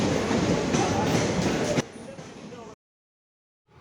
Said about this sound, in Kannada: ಮೈಸೂರು ಹೋಗೋ ಟ್ರೈನ್ ಬಂದಾಯಿತು.